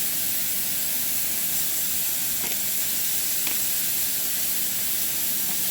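Hot oil sizzles steadily in a pan while beans are cooked, a continuous close hiss with faint crackles and a few brief sharper pops.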